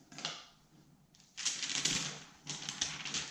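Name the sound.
peeling protective film off a glass shower door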